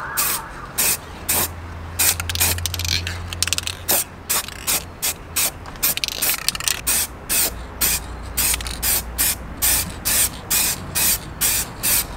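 Aerosol spray paint hisses in repeated short bursts onto a Ford car part meant for under the bumper, left unprimed, with brief pauses between steady, close passes.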